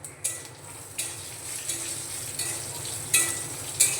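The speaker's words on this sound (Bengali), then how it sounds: "আদা আর রসুন দিয়ে একটু নাড়িয়ে নিয়ে আমি এখানে কয়েকটা শুকনো লঙ্কা দিয়ে" Ginger, garlic and dried red chillies frying over low to medium heat in a pan, a steady close sizzle broken by a few light scrapes of stirring, with no voice.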